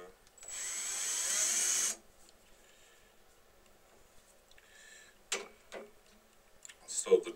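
A power drill with a drill bit whines in one loud burst of about one and a half seconds into a chamfered hole, followed by quiet workshop clicks and short scraping taps.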